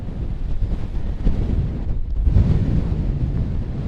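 Strong gusty wind on a Lake District mountain summit near Glaramara and Allen Crags buffets the microphone in a continuous loud roar, rising and falling with no voices.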